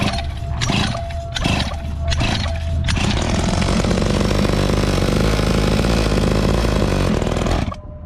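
A two-stroke dirt bike engine is kicked over a few times, then catches and runs loud and close, idling with a rough buzzing rattle while warming up on choke before cutting off near the end.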